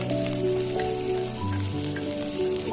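Cinnamon, cloves, fennel, ginger and garlic frying in a pan as the base of an egg masala gravy: a steady, soft, close sizzle under a faint tonal hum, with no talking.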